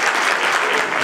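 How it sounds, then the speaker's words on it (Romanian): Spectators at a Romanian horse show (Easter of the Horses, Târgoviște) applaud a prize award, a short dense burst of clapping at steady loudness with no voices over it. "Aplauze! Un cal frumos!"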